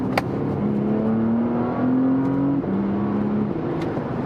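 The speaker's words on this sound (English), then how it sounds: "When you floor this car, it has gears." A Porsche Panamera 4S E-Hybrid accelerating at full throttle, a steady rising engine tone climbing through distinct gear changes, heard from inside the car at a moderate level with a faint hum underneath.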